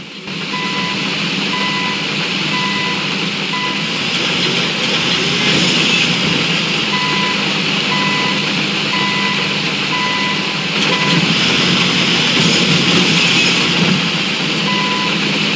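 A bulldozer in a video game reverses, its backup alarm beeping in a steady repeating rhythm over a constant engine drone, clear and unbroken with no talk.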